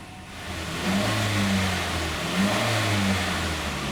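A Mazda CX-7 with a 2.3-litre direct-injection turbo engine running on LPG gas, heard close with a steady mid-pitched hum that rises in two brief revs before settling, with no talk.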